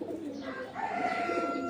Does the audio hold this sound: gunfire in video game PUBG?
no